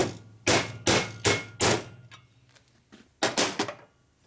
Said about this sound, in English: Steel hammer has a little more control when you're doing it, so I use a steel hammer.